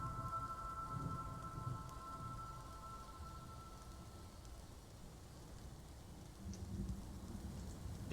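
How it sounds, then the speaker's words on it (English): Steady rain in Dwarf Fortress, a soft continuous hiss with game background hum, loudness swelling slightly near the start and end, no voices. "It started raining"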